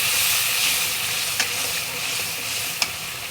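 Pangas fish braises with turmeric, chilli and other spices in a pan, giving a steady close hiss of sizzling oil broken by two sharp spatula clicks.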